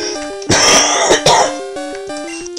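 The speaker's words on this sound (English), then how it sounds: "No, it's just a cough." A person with a lingering cold coughs and clears their throat a couple of times up close, harsh bursts over a steady backdrop of cheerful chiptune game music from a Pokemon title.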